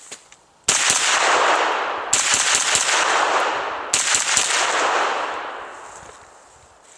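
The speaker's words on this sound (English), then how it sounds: "So we're going to shoot it here in just a minute." Three loud, evenly spaced shots from a Taurus CT9 carbine ring out, each followed by a long, echoing decay, with no talking.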